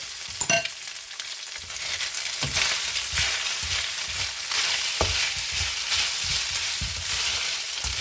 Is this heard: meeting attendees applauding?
no